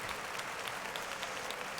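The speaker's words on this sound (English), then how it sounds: "Clap it up for yourself." An audience claps steadily for a couple of seconds, a dense, even patter of many hands at moderate distance, with no voices over it.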